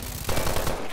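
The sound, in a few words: machine gun fire in video game Call of Duty: Advanced Warfare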